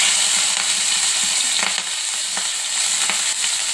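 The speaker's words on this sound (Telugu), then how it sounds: "ఇప్పుడు కొంచెం ఫ్రై చేసుకుందాం." Thinly sliced green chillies fry in half a spoon of oil in a pan, giving a steady close sizzle with occasional stirring scrapes.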